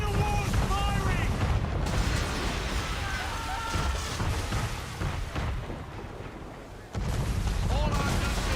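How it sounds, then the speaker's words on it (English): A man-of-war warship fires its cannons in Assassin's Creed III, a dense barrage of booming blasts and rumbling, with shouting voices scattered through the din. "Man of war's firing!"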